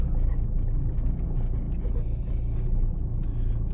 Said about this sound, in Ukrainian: до нас виїжджає автомобіль